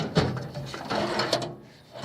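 A drawer slides along the rails of a Harbor Freight 26-inch tool chest, a brief rolling rumble with a soft clunk, close and alone.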